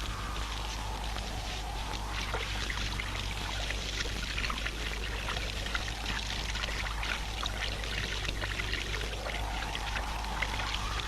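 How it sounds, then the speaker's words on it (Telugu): Kerosene is poured in a steady, continuous stream, giving a close, even liquid splashing that carries on without a break. "కాస్త కిరసాలు పోయండి."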